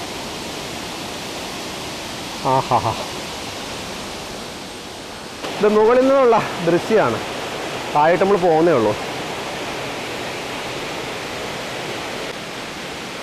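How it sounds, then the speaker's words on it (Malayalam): A steady rushing roar of Mankayam waterfall in Kerala fills the background while a person speaks a few short phrases over it. "വെള്ളച്ചാട്ടത്തിന് സൗണ്ട് കേൾക്കുന്നുണ്ട് കേട്ടോ"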